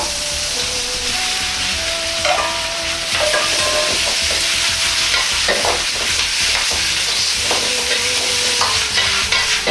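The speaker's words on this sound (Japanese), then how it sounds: "全体に油が回ったら葉の部分を入れ炒めます。" Komatsuna leaves sizzle loudly in hot oil in a wok, stirred with steady scraping and clattering from the spatula throughout, no talking.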